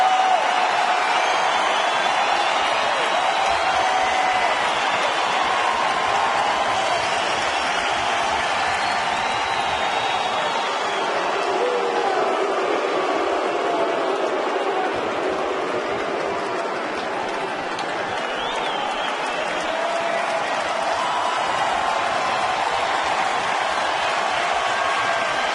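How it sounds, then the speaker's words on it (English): Baseball stadium crowd at a Cleveland at Detroit game, a steady loud roar of cheering and applause swelling continuously throughout, broad and dense with no pauses. "Here comes the crowd."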